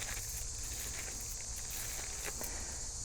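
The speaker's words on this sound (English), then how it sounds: "Cicadas are very loud today. You hear those guys?" Loud cicadas buzz outdoors in a steady, continuous high drone that fills the whole stretch without pause, with faint occasional handling noises underneath.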